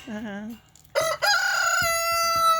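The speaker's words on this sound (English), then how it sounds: "Such chickens." A rooster crows close by, a single long drawn-out cock-a-doodle-doo that rises and holds, with a short clucking call from a chicken just before it.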